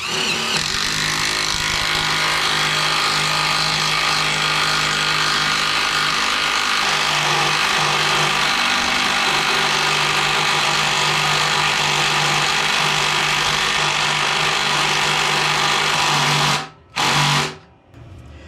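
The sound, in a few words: impact driver driving screw into wood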